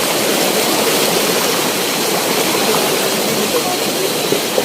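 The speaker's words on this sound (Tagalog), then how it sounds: "Kasi malakas yung agos." Strong river current rushing around a rock midstream, a loud, continuous broadband roar of turbulent water that stays steady and close without letting up.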